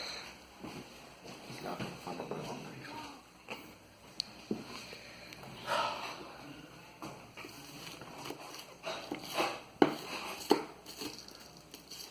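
A knife chopping, dicing and mincing food on a cutting board, with irregular taps and sharper knocks scattered through the clip over quiet kitchen background noise.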